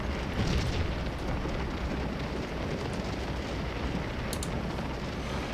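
Sustained rumbling battle din from Civil War artillery fire in Scourge of War: Gettysburg, a dense continuous roar of booming cannon and explosions with no clear gaps, steady and loud throughout.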